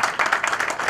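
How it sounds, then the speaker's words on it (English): An audience at a seminar on ISO 9001:2015 applauds a speaker, with dense, steady clapping throughout a very short burst. "Big round of applause for our speaker for a wonderful presentation and interactive session"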